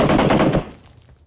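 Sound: M79 grenade launcher fire in PUBG Mobile video game

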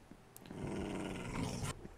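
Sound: dog growling in Minecraft video game

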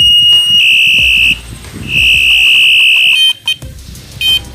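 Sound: rechargeable bicycle horn, sound mode changed by long press

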